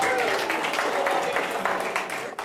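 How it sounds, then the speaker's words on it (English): An audience applauds a robot at an evening design event on robotics. The clapping is close, dense and steady throughout, with a voice talking over it. "How about a round of applause for R2 tonight"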